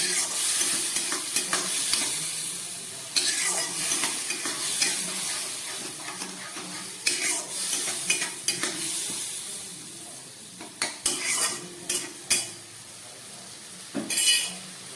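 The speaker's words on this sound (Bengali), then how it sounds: "খুব ভালো করে মশলাটাকে এবার আমি কষিয়ে নেবো" Spice paste with ground cumin and a splash of water sautéed in a pan for a catla fish curry, with a steady sizzle and repeated scraping, stirring strokes and occasional utensil clinks, close up and without talk.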